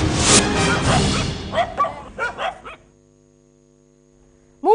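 Stray dogs, part of a pack of six attacking a woman, bark in a burst of loud, overlapping yaps and woofs up close, then fall quiet before one more sharp bark at the end.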